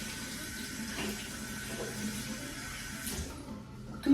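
Tap water runs steadily into a bathroom sink for mouth rinsing, a continuous close splashing flow that cuts off near the end.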